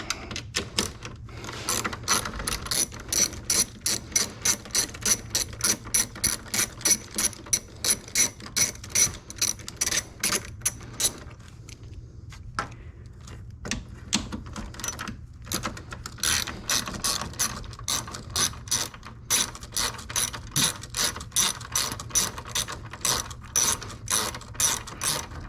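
A ratchet works the tow mirror mounting nuts loose on a Sierra/Silverado, giving long runs of rapid, crisp clicking close by, with short pauses between bursts.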